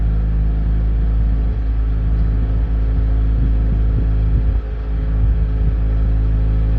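A small houseboat's motor runs steadily at a little above half throttle, a loud, close, even engine rumble with a constant drone and no talking.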